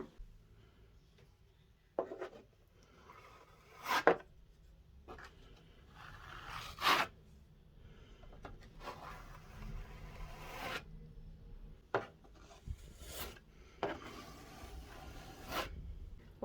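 A filler knife scrapes wall filler across a dented patch of wall in short, separate strokes, quiet rasping swipes at irregular intervals with near-silence between them.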